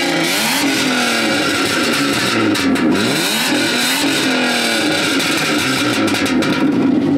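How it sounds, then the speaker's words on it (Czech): Car engine with a tuned, raised rev limiter and a pops-and-bangs exhaust map, revving loudly and close in repeated rising and falling sweeps, the exhaust crackling between revs, with no talk over it. "Je tam udělané, že ti to praská."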